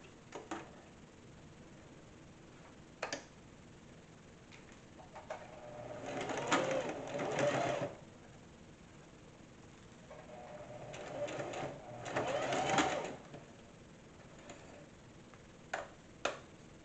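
A sewing machine stitching fabric for a makeup bag, two separate whirring runs of a few seconds each, close and moderately loud, surrounded by quiet room tone and a few light clicks.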